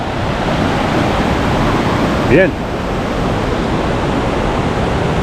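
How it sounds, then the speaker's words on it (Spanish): A river in Norway rushes steadily nearby, a dense, even roar of flowing water that persists throughout, with a single short spoken word briefly heard over it. "acá corre un lindo río"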